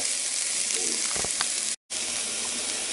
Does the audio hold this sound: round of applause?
no